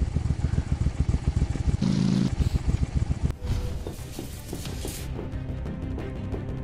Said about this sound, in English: Can I get off this motorcycle?